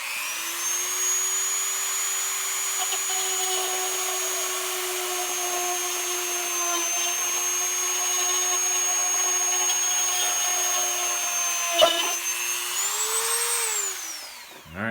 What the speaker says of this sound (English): So I'm gonna drill this barrel real quick.